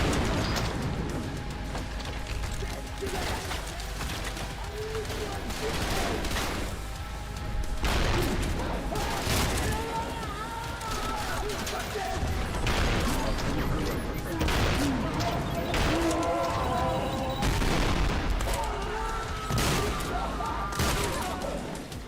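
Dense, continuous video-game gunfire with repeated explosions in a Trepang2 or Insurgency Sandstorm battle, heavy volleys and booming blasts layered without pause, loud and chaotic throughout.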